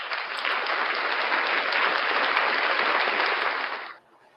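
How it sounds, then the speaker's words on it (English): A live breakfast show audience applauds steadily and fairly loudly for about four seconds, and the clapping then stops abruptly. "Round of applause for you guys."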